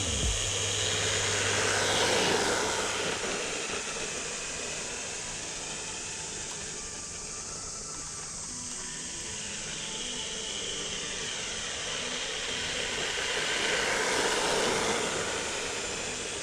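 A Hosim X06 brushed 1/10 scale RC truck runs at full throttle with a steady, loud electric motor whine and tire hiss that swells, dips as it moves off, then rises again as it comes back near.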